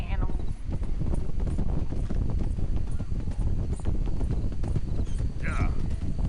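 Steady clip-clop of horse hooves trots throughout in Red Dead Redemption 2, with a brief whinny near the end and a voice speaking over it.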